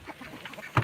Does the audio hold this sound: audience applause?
no